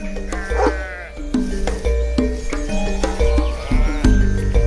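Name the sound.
sheep bleating with Maremma dogs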